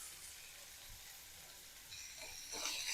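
Onions frying in a pan for North Karnataka mirchi mandakki give a steady low sizzle throughout, growing brighter and louder near the end as the frying intensifies, with no voices.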